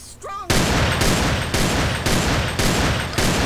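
Gunshots fired at spilled gasoline in GTA San Andreas: a short electronic chirp, then seven evenly spaced loud close shots about half a second apart, each a sharp crack with a ringing tail.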